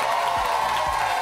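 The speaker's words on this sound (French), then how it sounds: "Mesdames et messieurs, un tonnerre d'applaudissements pour Mélan Nice." Studio audience applause on a French TV entertainment show, a dense steady wash of clapping that fills the short moment without a break, fairly loud and close.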